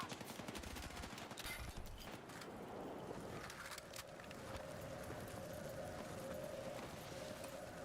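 Rapid gunfire in the Battlefield REDSEC video game, faint and distant bursts of shots and automatic fire rattling steadily under a busy battlefield mix, with no clear talking.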